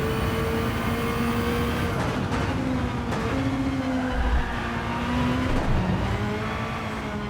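A Toyota GT-One TS020 race car lapping Spa in Gran Turismo 7, its engine a steady high whine with gear-change shifts in pitch, droning loud and close throughout.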